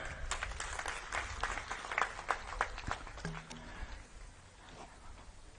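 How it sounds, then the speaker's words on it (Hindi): Applause from the crowd at a Binjhiya community convention and felicitation ceremony, honouring Narendra Modi: scattered claps in the hall, fairly faint and uneven, thinning toward the end. "मैं चाहूंगा कि नरेंद्र मोदी जी के लिए भी आप लोग जोरदार ताली बजाएं।"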